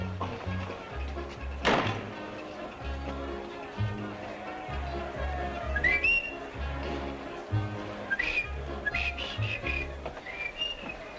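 A man whistles a tune, the melody wavering along with soft thumps and room sounds, close and moderately loud with no talk over it.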